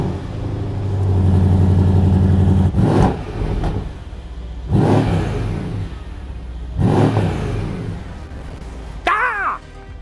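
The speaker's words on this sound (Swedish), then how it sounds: "Det är ju Mercedes V8 585 hästar original." Original Mercedes V8 rated at 585 horsepower revs hard several times, each blip rising to a loud roar and falling back, close by, with a faint chirpy sound at the end.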